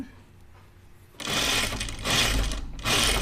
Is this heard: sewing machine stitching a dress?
yes